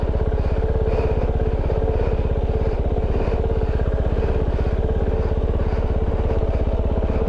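A Kove 450 Rally single-cylinder engine thumps steadily at low revs on a rocky jeep trail, with a rapid even pulse, close and loud.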